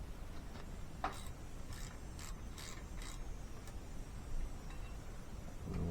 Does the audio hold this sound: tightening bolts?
yes